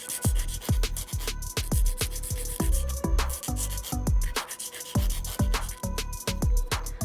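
A nail file is dragged in short, repeated rhythmic strokes across the edge of a plastic press-on nail tip, close and fairly loud, with no talking.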